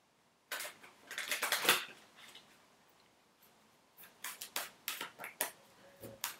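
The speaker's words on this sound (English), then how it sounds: "Let's give these a shuffle." A Rider-Waite tarot deck is shuffled by hand in two bursts: a dense, close riffle of crisp card flicks, a pause, then a series of separate sharp snaps and slides, with no voice.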